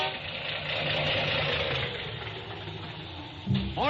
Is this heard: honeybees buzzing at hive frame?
no